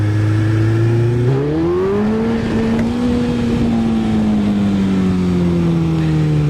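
Suzuki Hayabusa sport motorcycle engine under way, a loud, steady droning hum that climbs in pitch as the rider accelerates and then settles to a sustained cruise, with constant wind rush throughout.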